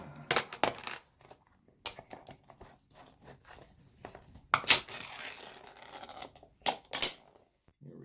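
A tin of C&D Bijou vintage pipe tobacco, said to date from 2003, being pried open: a run of close crinkling, scraping and crackling bursts with sharp loud snaps near the middle and end.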